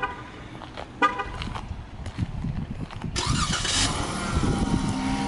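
A Dodge Charger SXT with a 3.6 liter V6 is started by remote start, a few clicks and a short crank, then the engine catches and settles into a steady, fairly close idle.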